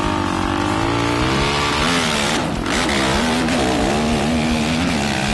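A factory Suzuki LTR450 racing ATV engine, a 2008 pro ATV motocross championship machine, revs loudly and steadily near the listener, its pitch rising and dipping with the throttle.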